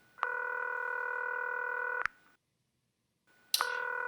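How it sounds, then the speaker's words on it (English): A telephone keypad sounds long steady dual-tone beeps, one held for about two seconds, then a short silence and a sharp click before another tone starts, clear and alone. "Let's call Tammy again."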